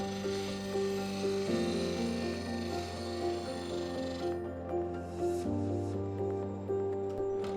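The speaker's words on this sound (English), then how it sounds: "the tool is really getting pushed around due to the interrupted cut" Woodturning gouge making interrupted cuts on a spinning three-point wooden bowl on a lathe, giving a steady, close rasping drone with a humming tone that changes pitch as the cut progresses.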